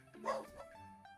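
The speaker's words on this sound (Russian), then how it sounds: "У меня аж собака фоном начала гавкать." Pet dog barking in the background of a home gaming session, one short muffled bark followed by faint whimpering tones, fairly quiet and distant.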